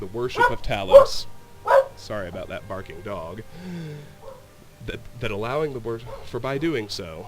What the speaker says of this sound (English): Sorry about that barking dog.